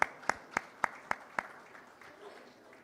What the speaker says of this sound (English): please welcome Jeet with a round of applause